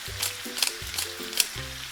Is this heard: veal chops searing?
yes